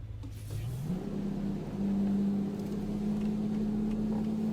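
A Renault Range T truck engine in Euro Truck Simulator 2 revs up, a low droning pitch climbing and then holding high and steady, loud and close with no talking.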